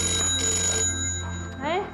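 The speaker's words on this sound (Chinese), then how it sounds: "快啲听电话啦" A telephone rings with a steady electronic tone in an indoor scene from a Hong Kong TV drama, heard under overlapping Cantonese speech.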